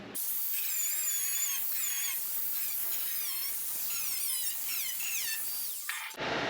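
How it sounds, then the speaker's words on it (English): An angle grinder cuts a vent hole into the metal roof panel of a Subaru, giving a loud, continuous high whine whose pitch wavers and climbs before cutting off abruptly near the end. "Ended up using an angle grinder to make the straight cuts"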